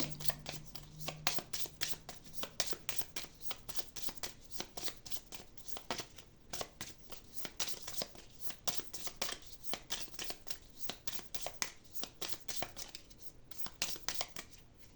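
Playing cards are shuffled and drawn for a tarot-style reading, a steady run of dense riffling and flicking taps that continues throughout, close and fairly quiet, with no talk over it.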